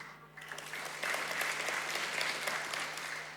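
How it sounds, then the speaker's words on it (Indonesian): A church congregation claps steadily for a few seconds, a soft, even patter of many hands at a moderate distance with a low hum underneath. "Tunggu, Bapak Ibu tepuk tangan buat dolar naik atau apa?"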